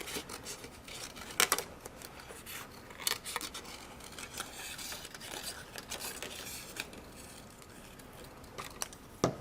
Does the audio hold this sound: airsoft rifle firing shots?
no